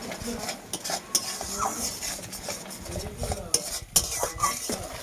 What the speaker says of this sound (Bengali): বেশ খানিকক্ষণ নাড়াচাড়া করলেই টমেটো আর সর্ষে মশলা সব এক হয়ে যাবে